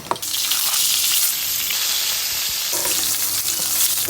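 Eggplant frying in a pan, meant for cooking with hilsa fish, gives a steady, loud, close sizzle that crackles on without a break, with no voices over it.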